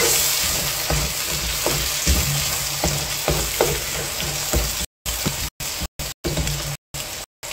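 Eggs frying in a pan, a steady close sizzle and crackle throughout with occasional stir-like clicks, cutting in and out toward the end.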